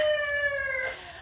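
A single backyard rooster crows close by in the UK, a loud drawn-out call that tapers off, with no voices.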